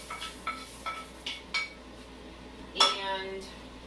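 Utensils clink against a bowl as salmon, potatoes, onions and celery are mixed together, with several short scraping taps followed by a louder clatter, close and clear with no talk.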